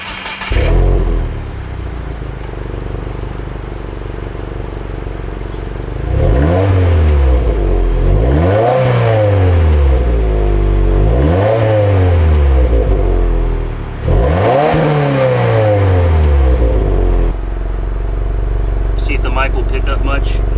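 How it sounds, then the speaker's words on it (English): A 2022 Subaru WRX with its factory exhaust revs and accelerates in several rising pulls, each climbing in pitch and then dropping back as it shifts. The engine sounds moderately loud from inside the cabin, and there is some talk at the start. "It's got a pretty nice factory exhaust though."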